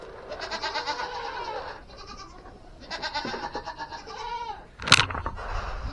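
Hungry farm goats bleat loudly and repeatedly at morning feeding time, several overlapping wavering cries close by, with a sharp rattle or clank near the end.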